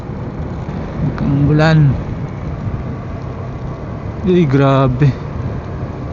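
Light drizzle and wind buffet a rider on a Honda ADV160 scooter on a mountain road near Infanta, Quezon, a steady broadband rush with engine drone beneath while someone speaks twice over it.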